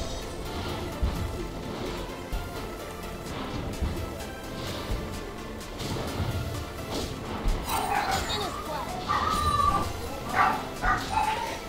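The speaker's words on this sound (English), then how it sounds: "Sorry if you can hear my dogs back there." Dogs barking, yipping and whimpering in the background of a home during a League of Legends match, faint and intermittent, growing a bit more noticeable toward the end beneath low room noise.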